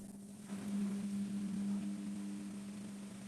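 A Profilo washing machine drains its water with a steady low pump hum that starts after half a second and holds at a constant pitch, quiet and close, with no voices.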